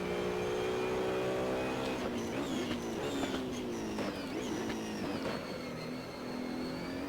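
Race cars in the Assetto Corsa video game pulling into the pits, a continuous engine drone with shifting pitch as several cars pass and slow.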